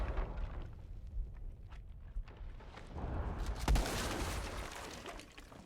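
A grenade goes off in a team-based video game match, a dull mid-clip burst amid ongoing in-game rumble, footsteps and scattered gunfire-like clatter.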